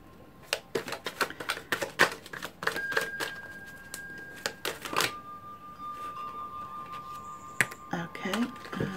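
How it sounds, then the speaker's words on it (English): Tarot cards being shuffled and drawn, a run of sharp close clicks and flicks in uneven rhythm with a faint tone humming underneath, while a person talks at times. "I'm going to get 2 advice cards for you now."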